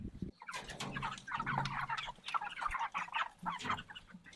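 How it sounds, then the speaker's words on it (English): Meat chickens being raised for processing cluck and chatter in a busy, close flock, with overlapping calls running throughout and no talk. "But a chicken's a chicken, and they're going to do chicken things."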